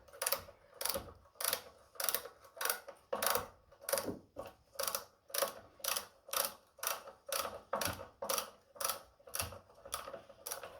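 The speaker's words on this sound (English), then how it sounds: "I'm just holding the back of it with a little closed-ended spanner there" Rapid ratcheting clicks from a small closed-ended spanner working on an exhaust bolt of a Royal Alloy GT125 scooter, coming in a steady run of about twenty sharp bursts, close and fairly quiet, with no talk.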